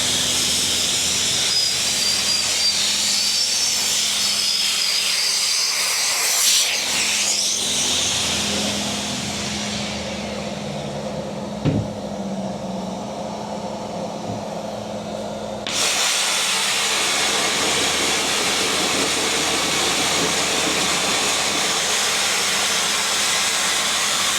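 Sandblasting a boat hull: loud, steady blasting hiss with a harsh roar, continuous throughout, dipping briefly midway before returning at full strength.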